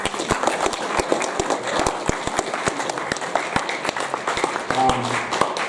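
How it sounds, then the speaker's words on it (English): A school assembly audience at Porirua College gives the streaming team a round of scattered, fairly sparse clapping, individual hand claps standing out at a moderate level with a faint murmur beneath. "Could we give his team a clap, please?"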